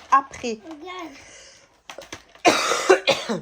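A few harsh coughs break out near the end, close and loud, following some quiet talking and a short pause.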